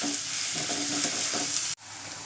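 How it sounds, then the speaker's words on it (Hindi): Onions sizzle in hot oil while being stirred, a close and steady crackling fry that cuts out abruptly for a moment before resuming. "प्याज थोड़ी नरम होने तक हम तेल में भुनेंगे, ज़्यादा लाल नहीं करेंगे"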